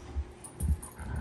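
An Irish Setter puppy, about four and a half months old, gives a few short, close whimpers and low huffs, as though holding back a bark.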